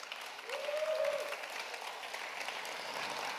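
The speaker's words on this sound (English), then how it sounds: "Let's give everyone a round of applause." Audience applause at a Greater Colorado Pitch Series event: a steady, dense wash of clapping through the whole stretch, with a brief cheer rising over it early on.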